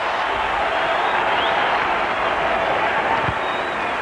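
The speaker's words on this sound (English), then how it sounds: "This crowd is into it tonight. Tremendous roar as Mo Vaughn is introduced." A large crowd at a 1998 Red Sox baseball game roars steadily in the stadium, a broad sustained wash of cheering from start to finish, with a voice faintly beneath it.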